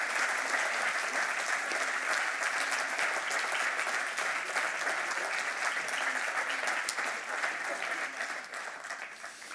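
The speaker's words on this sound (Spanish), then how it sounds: "é un gran aplauso, que vos lo merecedes" Sustained audience applause at a La Región forum honouring Rafael López, a dense even roar of many hands that carries steadily and thins slightly near the end.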